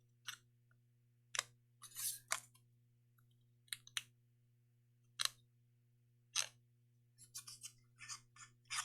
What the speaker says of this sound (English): Just kind of shave them off with your scissors.